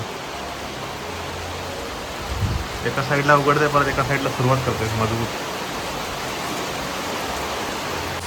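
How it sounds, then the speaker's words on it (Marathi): Heavy rain falls in a steady wash around Sakhari village, a constant hiss with someone talking over it midway. "पाऊस काय लागतोय बघा"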